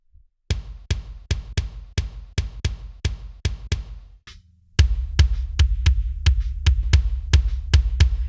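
Layered kick drum samples strike in a steady, punchy rhythm with the reverbs muted, about a dozen tight thumps, a brief pause, then another run over a low sustained bass, loud and dry with no voices.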